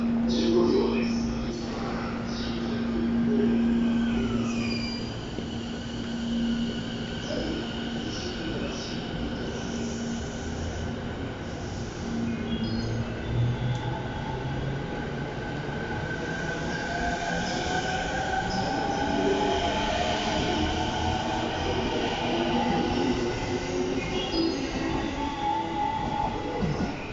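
A 15-car JR East train stands at platform 4 of Funabashi station, with a steady low rumble and mechanical hum filling the platform while recorded announcements and station chimes play over it.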